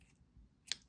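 Scissors snip through yarn on a crochet piece, two quick crisp cuts close up in a quiet room.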